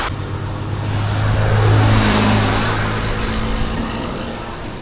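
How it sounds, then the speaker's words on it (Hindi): A car approaches along a road near Jamnagar on the way to Dwarka, a loud low rumble and tire noise that swells to a peak midway and then slowly fades, with no talking. "एक गाड़ी आ तो रही है"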